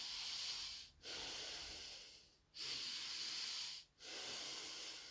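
Slow, deep breaths drawn in and let out during a guided breathing exercise, long airy hisses separated by short pauses, close and steady with no talking.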